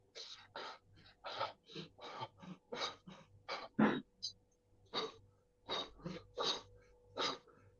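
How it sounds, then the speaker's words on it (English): During a family constellation training session, a person breathes heavily in quick, rhythmic, audible gasps, about a dozen breaths in close succession with brief pauses between some. "Lot of breathing."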